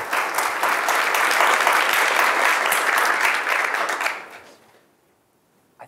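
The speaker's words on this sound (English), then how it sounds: "So please clap." An audience at a talk on performance engineering at the exascale claps loudly and steadily for about four seconds, then the applause fades out into near silence.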